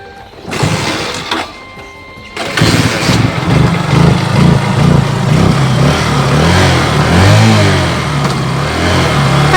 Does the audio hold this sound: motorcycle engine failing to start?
yes